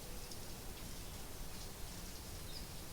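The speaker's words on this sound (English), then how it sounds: "this is a quick word because it's raining." Rain falls outdoors in a soft, steady hiss of drops, low in level and even throughout, with no talking.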